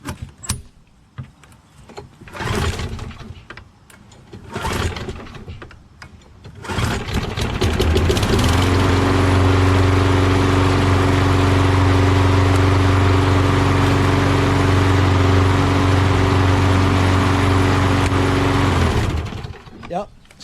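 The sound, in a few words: Craftsman 6HP Quantum engine lawn mower running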